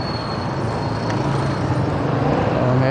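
Steady road traffic noise outside a Robinson mall, cars and other vehicles rumbling continuously at moderate loudness without pause, with no voices standing out.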